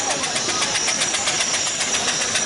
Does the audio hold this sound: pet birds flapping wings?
no